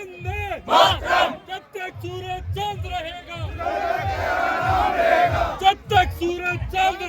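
A large crowd at a martyred soldier's funeral chants patriotic slogans in loud call-and-response bursts, voices rising together in repeated rhythmic shouts that fill the whole moment.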